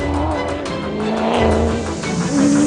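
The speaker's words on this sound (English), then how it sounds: "Buckies from Ford, Nissan, Toyota and Volkswagen do battle with mostly big V8s" Racing pickup trucks from Ford, Nissan, Toyota and Volkswagen, mostly big V8s, roar loudly and continuously with rising and falling engine notes, as if passing on a circuit during a South African championship race.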